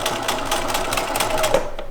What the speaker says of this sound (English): And I'm just making a cute little top stitch.